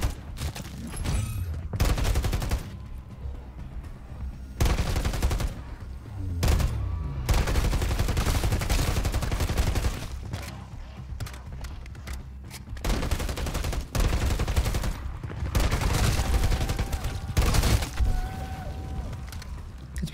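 Enemy gunfire rattles through a Modern Warfare III zombies match in repeated loud bursts of rapid shots separated by brief lulls, close and forceful, with no talk over it.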